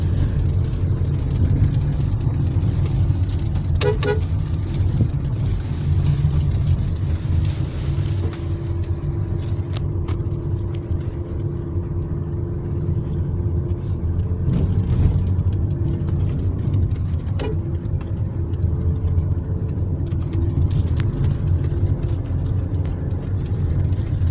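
A Honda HR-V engine labors steadily up a forest hill in L gear, a constant low drone with a few faint clicks and knocks.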